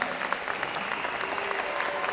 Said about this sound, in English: So give Dr. Tarawne a big round of applause